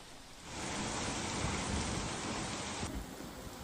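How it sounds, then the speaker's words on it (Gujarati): Heavy unseasonal rain driven by wind pours down in Pardi, Valsad, swelling in after a quieter start into a dense, loud roar of rain that stops abruptly near the end. "પારડીમાં પણ પવન સાથે ધોધમાર વરસાદની શરૂઆત"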